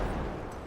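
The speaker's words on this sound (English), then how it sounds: "Now, I put in the realistic explosion." A realistic explosion from a modded GTA V (LSPDFR) plays as a loud, sustained low rumble that starts strong and slowly tapers off over less than a second, with no talk over it.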